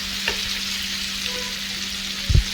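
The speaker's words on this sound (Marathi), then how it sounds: "पूर्णपणे तेलावर परतून घ्यायचं" Dry turmeric and coriander powders fry in hot oil for a Marathi eggplant curry, a steady close sizzle with a couple of soft spoon scrapes against the pan.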